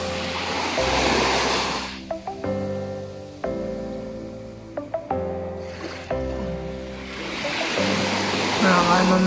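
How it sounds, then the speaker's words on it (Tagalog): Ocean surf rushes in broad washes at a beach at dusk, strongest at the start and end, while a steady tonal drone with stepped pitches fills the middle and partly masks the waves. "Mga alon lang naririnig mo."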